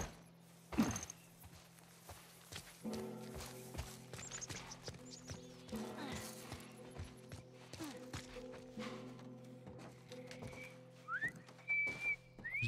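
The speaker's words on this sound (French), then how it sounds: "elle siffle quoi" In The Last of Us Part I, Ellie whistles a few short rising notes near the end, set against footsteps, horse hoof clops and quiet game ambience.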